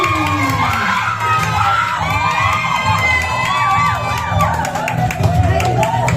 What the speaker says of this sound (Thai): กองเชียร์เยอะเช่นกันนะครับ